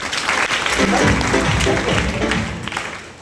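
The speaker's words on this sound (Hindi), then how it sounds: "9-10 लाख से ऊपर हो गया। बजाओ ताली।" Rhythmic clapping from an audience at an Indian business or motivational event rises to a loud, busy burst over background music and crowd chatter.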